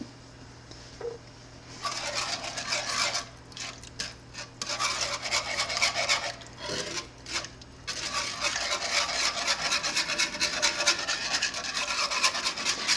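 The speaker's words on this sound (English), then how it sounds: "I just do my best to like whisk it in, and then I kind of let it bring itself to a simmer" Sausage gravy being whisked in a pan over heat: brisk, continuous rasping strokes of the whisk against the metal pan, close and fairly loud, with a few short pauses.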